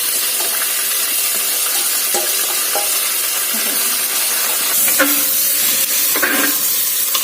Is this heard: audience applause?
no